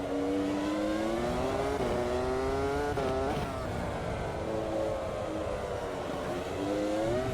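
Formula 1 V10 race car engines scream in Automobilista 2, a steady loud high-pitched whine that rises and falls with gear shifts, one close engine dominating throughout.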